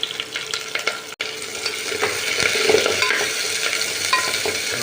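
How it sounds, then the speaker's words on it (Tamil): Lots of onions sautéing in a pot for beetroot biryani, a loud close hiss of frying with scraping stirs, building slightly after a momentary gap. "ஆனியன் போட்டு அதெல்லாம் வதக்கணும்"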